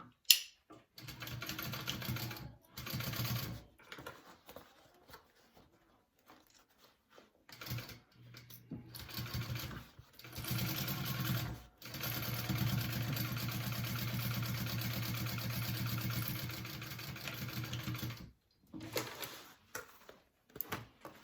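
A sewing machine stitches the side seam of a bag in a quiet room, running in a few short bursts and then one longer steady stretch of even mechanical whirring.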